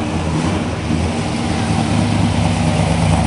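A 1970 Chevelle SS muscle car at a car show idles with a deep, steady engine rumble, loud and close throughout the short stretch.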